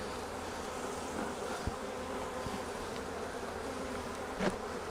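Honey bees hum in a dense, steady drone at an opened hive in spring, close and continuous, with a couple of faint knocks as a hive tool scrapes along the box.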